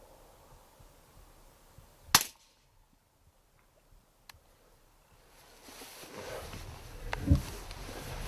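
An airgun fires a single sharp crack at a feeding rabbit from a prone position outdoors at night. Faint ambient hush follows, then a later rising rustle with a low thump.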